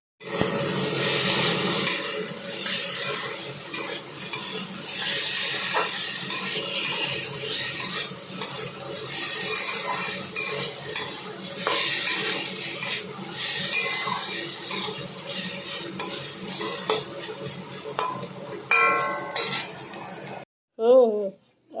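Potatoes fry in a pan on a gas stove in a home kitchen, a steady broadband sizzle running throughout with occasional stirring scrapes and clinks of utensils, loud and close, ending in a brief pause then a short burst.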